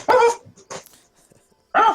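A human voice imitates a dog barking during a tabletop Advanced Dungeons & Dragons second edition session: three loud, close woofs, the first two quick and the last after a short pause.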